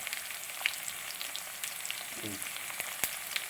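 Chopped ginger and garlic fry in a pan for a Kerala clam roast, a steady soft sizzle and hiss with a few light clicks of stirring, close and fairly quiet.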